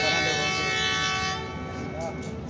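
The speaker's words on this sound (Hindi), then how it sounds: "जी सेकंड विसल हो गई है" A train whistle sounds loud and sustained at Abdul Hakim railway station as a Millat Express passenger train prepares to depart, a long tonal blast that fades somewhat toward the end.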